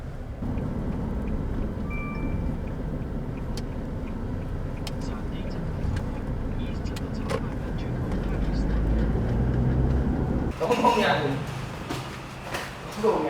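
A taxi ride in Thailand, heard from inside the car as a steady low road rumble and engine drone, with a brief burst of louder clatter near the end.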